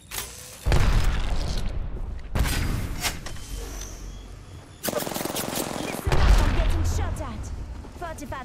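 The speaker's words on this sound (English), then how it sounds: "Firing. Getting shot at." Bursts of rapid automatic gunfire with booming impacts in the Apex Legends battle royale game, several dense volleys separated by short gaps, loud and close, with some voice lines heard over the shooting.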